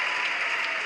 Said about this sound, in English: You still have the audience applauding to you every few minutes in the background.